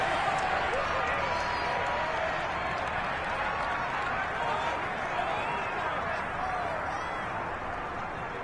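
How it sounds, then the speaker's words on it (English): A stadium crowd at an NFL football game involving the Dolphins roars and shouts continuously, a dense, steady wash of many voices with scattered claps and no pauses. "Plenty of shouts from this crowd as they watch the replay."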